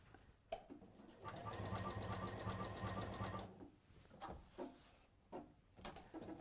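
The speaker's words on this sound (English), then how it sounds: "it's not making any strange noises, bad noises. It's happily sewing it." A sewing machine stitching through thick, bulky fabric, a steady rapid mechanical run of about two seconds, followed by scattered clicks, thumps and handling of the presser foot and material.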